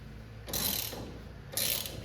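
Two short bursts of rapid ratchet clicking come close and fairly loud while the rag joint on the steering box of a 1959 Impala is loosened. A brief pause separates the bursts.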